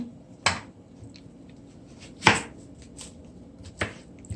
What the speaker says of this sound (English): just gonna cut on the onion